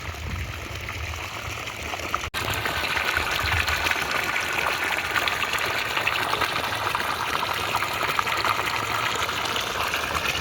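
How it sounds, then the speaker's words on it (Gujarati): Water is switched on to irrigate a field of groundnut crop. A brief click is followed by a loud, steady rushing gush that continues without break. "પાણી કરી દીધું ચાલુ"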